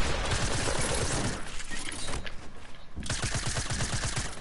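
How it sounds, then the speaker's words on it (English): Gunfire in a duos video game match, dense bursts of rapid shots that thin out briefly in the middle before rattling back in quick repeated pops, no talking. "This kid's trying to shoot down the other kid."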